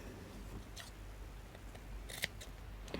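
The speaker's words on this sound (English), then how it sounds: "you need to snip into it at the back as well" Scissors snip into the neckline fabric of a stretch top while it is being made up, a few faint, soft cuts under a steady low background hum.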